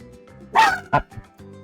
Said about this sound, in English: If there is one thing that is a constant, it's Survivor Pooch's barking